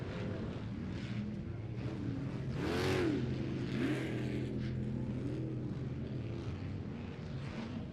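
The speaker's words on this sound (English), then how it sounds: "He is pushing that Monster Energy Nitto-backed machine to the limits" A Monster Energy Nitto-backed off-road race vehicle at the 2018 MetalCloak Stampede 4400 drones at high revs, swelling loudest as it passes close near the middle before easing off into a steady distant roar.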